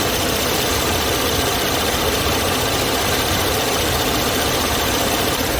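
A Chevrolet Alpheon engine idles with the hood open, a steady close mechanical hum and whir with faint ticking running evenly throughout, no voices over it.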